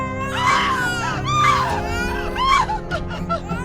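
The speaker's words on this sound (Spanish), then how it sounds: "escuchó el llanto del bebé seguido de la débil voz de su esposa" An infant cries loudly in a horror audio story, with several rising and falling wails in close succession forming a continuous distressed sobbing.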